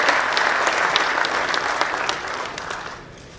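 Applause from an audience at an industry infrastructure seminar in Zárate and Campana, honoring industry and municipal representatives: steady, dense clapping from a sizable crowd that holds for about three seconds and then fades.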